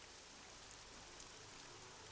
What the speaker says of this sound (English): I love the rain out here.